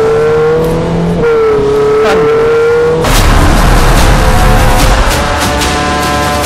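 Ferrari 488 Pista engine at high revs, a loud close howl climbing through several gears with brief dips at each shift, then a roaring rush as the car surges past.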